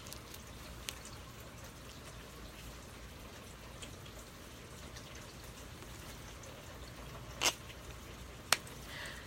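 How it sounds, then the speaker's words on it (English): Light rain that is easing off, a faint steady patter with a couple of sharper louder drops near the end, quiet and even throughout with no voices. "The rain is subsiding"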